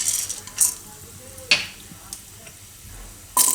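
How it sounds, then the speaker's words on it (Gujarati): Whole black peppercorns hit hot oil in a pan with a faint, steady crackle, broken by a few sharp spoon-and-pan clinks and stirring scrapes, quiet and close. "તો તેલ આપણું ગરમ થઈ ગયું છે. એમાં આપણે આખા મરી નાખશું"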